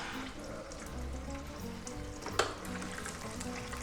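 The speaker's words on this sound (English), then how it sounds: "we're definitely getting some dark frying color here" Bone-in chicken fries in hot oil for chicken and waffles, a soft, steady sizzle at low volume with a brief clink or stir partway through.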